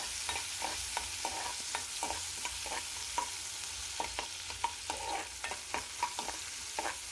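Onions fry in a pan for a beetroot and chickpea curry: a steady sizzle is broken by frequent short stirring scrapes close by.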